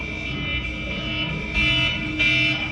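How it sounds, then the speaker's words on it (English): A loud electronic alarm sounding for minutes beside a sleeping person, a steady sustained tone with layered harmonics that swells louder in two steps, with no talk over it. "Homeboy's alarm's been going off for like 2 minutes."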